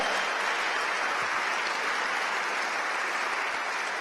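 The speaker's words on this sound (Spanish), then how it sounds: "Démosle palmas al Señor, hermano." A church congregation claps for the Lord during a sermon, a continuous, even roar of many hands for about four seconds with no voices standing out.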